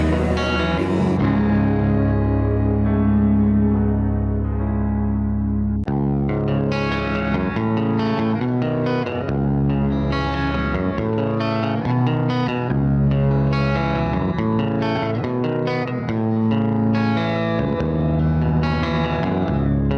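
Electric guitar cover of a song, heard as a dense, sustained tone with effects, distortion and echo. After a sparse opening, chords and melody ring continuously for the rest of the passage, loud and close, with no talking.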